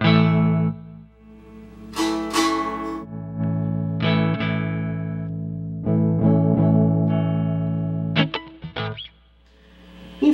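A 1959 Milsons Art Deco electric guitar played through distortion, chorus and echo effects: loud sustained chords and single notes ringing out, with pauses between phrases and a few quick picked bursts near the end, no voice.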